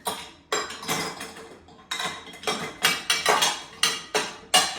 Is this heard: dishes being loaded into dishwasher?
yes